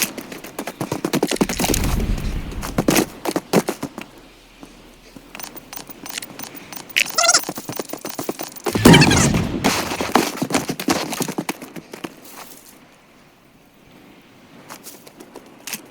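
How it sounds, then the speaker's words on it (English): Gunfire in a solo battle royale video game crackles from a distance, with scattered bursts and one louder volley in the middle, over footsteps and ambient game sound. "Got some gunfire over there, ping real quick. Got some additional fire."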